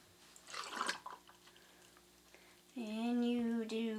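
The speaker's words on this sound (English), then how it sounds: "And you pour those 2 ounces in." Two ounces of liquor are poured into a Dark and Tropical cocktail, a brief close splashing gurgle, followed after a pause by a sustained, voice-like tonal hum.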